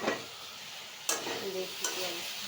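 Cauliflower curry with turmeric stirred in a frying pan, a steady oily sizzle under a few scraping strokes of a spoon against the pan.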